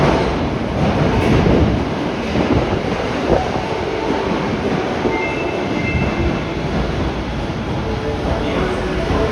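An Osaka Metro Tanimachi Line train rumbles loudly at Moriguchi station, with steady rolling and wheel noise close by and announcements over it.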